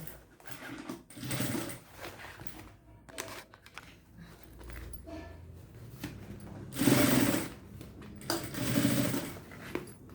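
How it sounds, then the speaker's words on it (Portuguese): A sewing machine runs in several short bursts, stitching a seam to close a fabric ring for an insulated backpack, its mechanical whir starting and stopping with quiet pauses and handling noises between. "E agora, eu vou passar a costura para fechar este anel."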